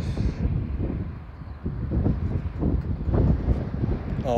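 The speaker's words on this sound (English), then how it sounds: "Oh, it's bloody windy now." Wind gusting outdoors on a winter day, a steady broadband rushing roar with surging gusts that stays loud and close throughout, with no talk.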